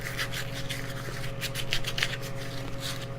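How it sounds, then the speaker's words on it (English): A piece of pine is sanded by hand with 220-grit sandpaper, giving soft repeated scratchy strokes at close range over a steady low hum. "And then I'm going to grab a piece. This is just 220 because I'm doing pine."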